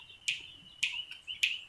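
Cicak biru (wayang) songbird giving three short, bright, whistled calls, evenly spaced and close, with faint background between.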